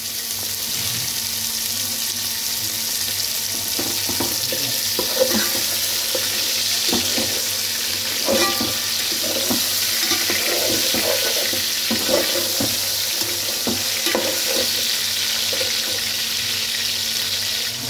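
Chicken added to fried masala in a pan, giving a steady hissing sizzle with scattered stirring clatter and scrapes throughout, close and even in loudness.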